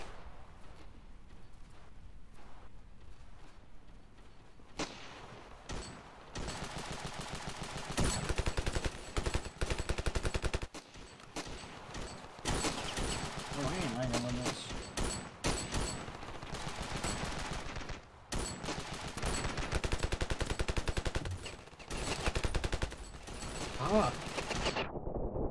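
Rapid bursts of gunfire and automatic weapon fire in a Ravenfield video game battle on a coastline, loud and dense, with near-continuous volleys and brief lulls, after a quieter opening stretch.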